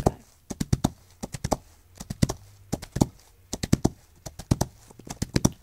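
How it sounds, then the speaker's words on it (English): Hooves clip-clop in quick irregular clusters of sharp, close knocks as horses walk, a steady busy patter of hoofbeats with no talk. "Hello, pony. Hello, horses."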